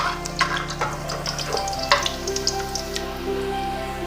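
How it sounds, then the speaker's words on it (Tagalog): Shrimp paste (bagoong) sautéing with browned garlic in a pan for sambal, a close, steady sizzle and fry broken by scraping stirs, with no voices. "ilagay na natin yung ating bagoong. Gisa pa natin yung ating bagoong."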